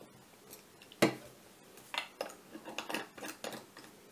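Small lids pressed back onto Spectrum Noir Aquatints paint pots give a series of faint, close plastic clicks and taps, one sharper snap followed by several lighter clicks.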